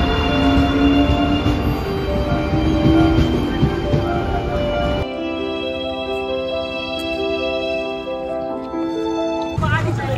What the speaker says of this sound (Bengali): ট্রেনে কাশিমবাজার পৌঁছতে আমাদের মোটামুটি 5 থেকে 6 মিনিট সময় লেগেছিল।